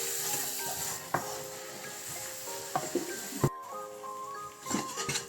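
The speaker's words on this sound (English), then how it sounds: "Add the spinach with the sauce and mix." Spinach being stirred into sauce in a pan, with soft gentle sizzling, a few scattered clinks and scrapes of a utensil against the pan, and a sharper knock near the middle, close and moderately quiet.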